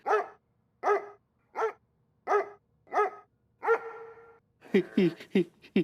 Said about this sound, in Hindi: ये तो सक्सेना का कुत्ता है